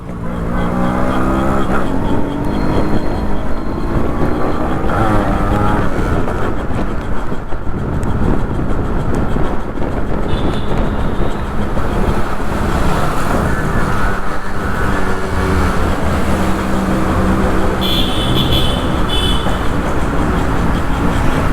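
Yamaha RX100 motorcycle engine running loud and continuous at close range, a steady rough two-stroke drone that holds throughout with no pauses.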